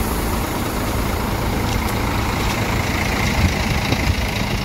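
An IBA Putra intercity bus on the Jakarta–Palembang route idles at a busy morning terminal in Palembang, a steady low diesel rumble droning without pause, with no voices over it.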